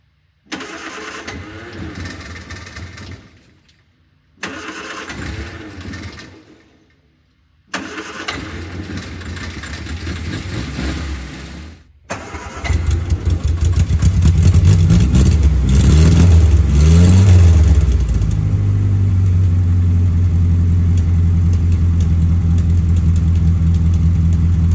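Sprite sports car kept in a barn, cold-started: the starter cranks in several bursts with short pauses, then the engine catches and roars loudly, revving up and settling into a steady high idle.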